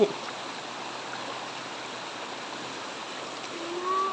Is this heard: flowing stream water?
yes